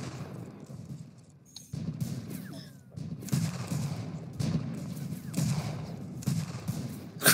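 Gunfire in a video game battle at a farmstead sounds as repeated volleys of muffled shots, rolling bursts that rise and fade every second or so at moderate distance over a dull background.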